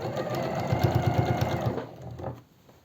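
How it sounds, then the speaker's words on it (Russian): A sewing machine stitches a seam on a simple four-panel elastic-waist skirt, running in a steady rapid whir with a regular stitch pulse, then slowing and stopping near the end; no talking. "Для этого просто загибаю, устанавливаю и даю строчку."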